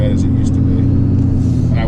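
RAM 2500 pickup truck driving down a very rough, bumpy road, its engine and road rumble loud and steady throughout the short stretch with no talk.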